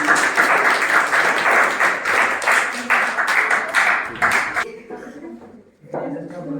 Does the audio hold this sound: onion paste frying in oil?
no